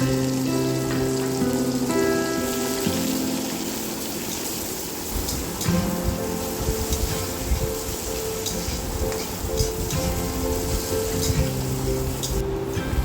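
Chopped onions hit hot oil seasoned with five-spice, a chili and bay leaf, giving a steady, close, loud sizzle and crackle that runs without pause, with no voices.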